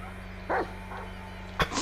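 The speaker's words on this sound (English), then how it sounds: "Now I'll show you a real bark, motherfucker." A Rottweiler in GTA V Online gives two or three short barks over a steady background hum, with a louder sharp bark near the end.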